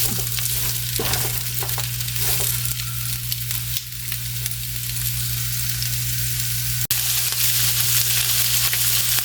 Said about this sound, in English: we're just going to saute these for just a few minutes